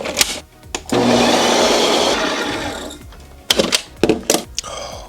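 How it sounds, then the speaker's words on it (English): A Ninja Creami ice cream maker runs its mix-in spin on a pint of ice cream, giving a loud, close motor whir for about a second before it stops, followed by several sharp clunks and knocks. "one more spin on the mix-in setting"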